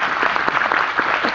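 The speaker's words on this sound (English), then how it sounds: "First of all, give a round of applause for the question." An audience breaks into a round of applause at a business event, dense close clapping that stays loud and even through its short length.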